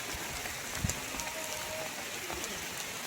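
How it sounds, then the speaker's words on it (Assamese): Heavy rain falls outdoors near a parked car, a steady hissing wash of drops on surfaces with a brief thump and a faint voice underneath. "বাপৰে বৰষুণ।"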